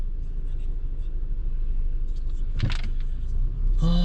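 A Renault Samsung SM6 LE on a test drive checking for underbody noise, with low steady road rumble and engine drone inside the cabin, a few light rattles and a brief clunk near the end.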